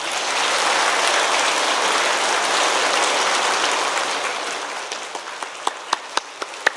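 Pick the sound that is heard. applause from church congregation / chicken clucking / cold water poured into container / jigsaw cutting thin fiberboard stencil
applause from church congregation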